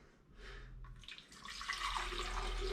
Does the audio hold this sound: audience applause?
no